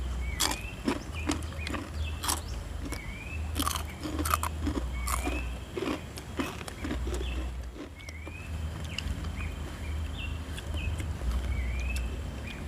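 Crispy fried Indonesian gorengan is chewed close up with sharp, repeated crunches in an irregular rhythm over a low background hum, with a faint squeaky sound now and then and no talking.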